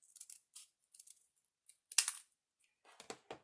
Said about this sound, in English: I'm going to cut these corners off,